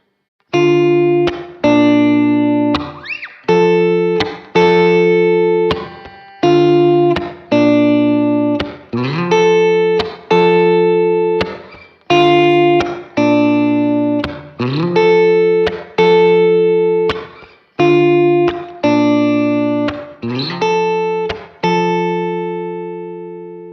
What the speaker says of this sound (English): it has a really cool broken chord sound on the guitar part.